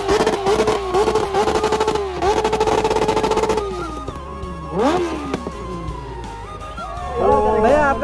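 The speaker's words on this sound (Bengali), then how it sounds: "তো দাদা এখন বাইকটা স্টার্ট করবে," An H2 motorcycle at a riders' meet-up revs repeatedly, its pitch climbing and falling in sharp blips over crowd noise and voices, loud and close throughout.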